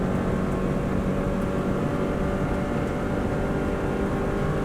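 Subaru WRX STI engine held at full throttle on the Isle of Man TT course, a continuous loud roar of engine and wind noise without a break, no talk.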